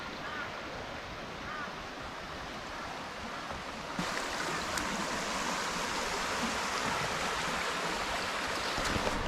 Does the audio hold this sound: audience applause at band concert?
no